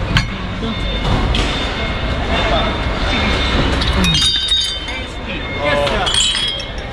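Drinking glasses clink and knock together as they are handled and sorted while salvaging from a dumpster, giving loud irregular chinks over rummaging noise, with people talking throughout.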